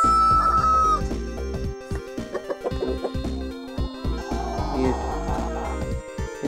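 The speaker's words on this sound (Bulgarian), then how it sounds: "Ето една кокошка." Several chickens cluck and call close by in a farmyard, with a rooster crowing among them; the fowl sounds come in busy, irregular bursts over a steady low background.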